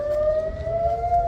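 An air raid siren in Israel during a missile attack holds a loud, sustained wailing tone with faint overtones above low rumbling street noise, with no voices over it.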